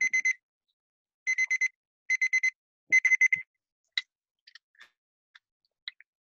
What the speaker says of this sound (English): so here's our timer. Ta-da.